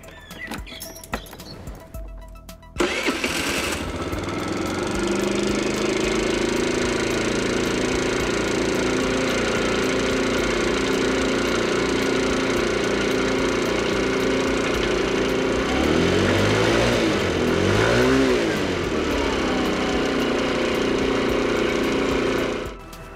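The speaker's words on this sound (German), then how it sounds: "Und starten den Roller" After some brief clatter, a small four-stroke scooter engine starts after valve adjustment and settles into a steady idle, with a short revving swell partway through before it cuts off.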